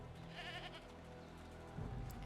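A goat in the video game Jade Empire gives a wavering bleat, faint against a steady game background, followed by a low rumble near the end.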